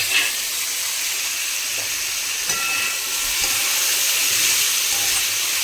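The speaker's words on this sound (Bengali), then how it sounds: "আলু আর কুমড়ো ভাজা হয়ে গেলে তার মধ্যে দিয়ে দেব চেরা কাঁচা লঙ্কা।" Potato and pumpkin pieces fry in a pan with slit green chillies added, giving a steady, close sizzling hiss that runs unbroken throughout with no talking.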